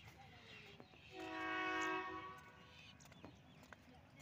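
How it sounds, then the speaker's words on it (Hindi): A train departing Sanawar railway station sounds one loud, sustained horn blast lasting just over a second, set against a steady low rumble of the moving train. "तीस चालीस सेकंड रुकने के बाद ट्रेन का डिपार्चर हो गया सनावर रेलवे स्टेशन से।"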